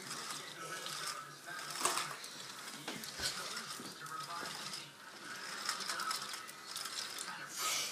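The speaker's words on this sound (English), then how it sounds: "It rolls with piston rods moving and everything." Lego bridge mechanism rolling along with its piston rods moving, giving a soft, continuous clicking and ratcheting of small plastic parts up close. The level rises and falls a little, with no clear talk.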